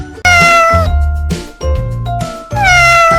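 A domestic cat meows three times in a row, each call drawn out and tonal, close and loud with brief gaps between.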